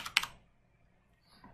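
Keys tapped on a computer keyboard while entering a web address, a quick burst of a few close clicks at the start followed by near silence and a faint tap near the end.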